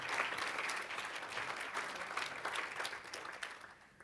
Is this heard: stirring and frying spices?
no